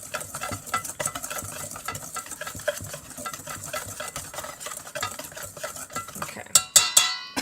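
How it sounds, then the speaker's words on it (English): Brown sugar mixture for crockpot pork ribs is whisked in a bowl, with steady scraping strokes running throughout and a few sharper metallic clinks near the end. "Just going to mix this up really good."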